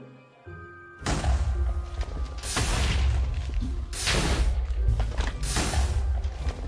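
Minecraft explosions boom in a rapid series, about four heavy, close blasts with rumbling tails following a brief quiet start, loud and alone without talk.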